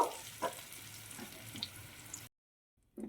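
Cauliflower florets fry in hot oil until lightly browned, giving a steady close-up hiss and crackle that cuts off abruptly into silence, then a brief burst returns.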